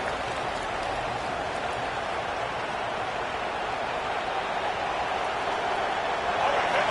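Stadium crowd in a video football game roaring steadily late in the final two minutes as the defense is backed up, a dense, sustained wash of cheering that swells slightly toward the end.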